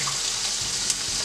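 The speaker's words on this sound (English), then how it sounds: "I'm going to go ahead and add in some water." Water poured into a pot of vegan Vietnamese curry, a steady splashing hiss that runs alone for just over a second.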